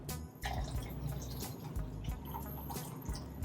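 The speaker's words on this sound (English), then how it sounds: "And we're gonna pour our shot in there." Espresso is poured from a shot glass into a cup for a homemade pumpkin spice latte, a quiet, close trickling and dripping of liquid under low background hum.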